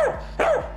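A small pet dog gives two sharp, close barks in quick succession, loud and alone with no talk.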